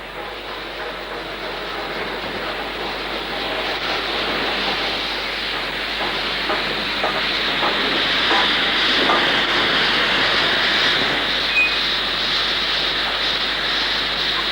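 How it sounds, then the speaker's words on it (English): Locomotive 45268 hauling a stopping passenger train to Morecambe, a broad steady rumble and hiss of the approaching steam-era train that grows gradually louder and nearer, with no voices over it. "here 45268 arrives on a stopping passenger train to Morecambe"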